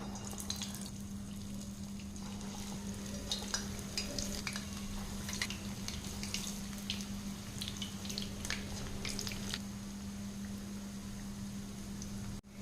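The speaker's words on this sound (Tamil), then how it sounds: "நம்ம அப்படியே போண்டா எடுத்து போட்டுக்கலாங்க" Spinach and urad dal bondas frying in hot oil, a steady soft sizzle and bubbling with occasional crackles and faint stirring clinks, continuous and fairly quiet with no talking.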